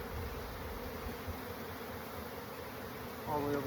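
Honey bees buzz around an open hive during a spring inspection, a soft continuous drone of many wings close by, with a faint higher whine near the end.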